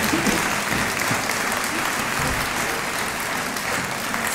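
An audience at a Christmas music celebration applauds the performers after a tribute, a loud, continuous wash of clapping that stays even from start to finish.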